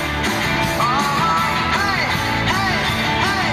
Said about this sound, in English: This audience just screaming.